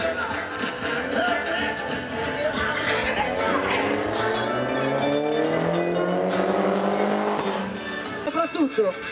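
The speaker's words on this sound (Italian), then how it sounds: "Le due auto si allineano, guardate, quasi si toccano." Stunt cars driving side by side at a stunt show, with loud, continuous engine roar and rising, sweeping tire squeals lasting throughout, ending in a few short bursts.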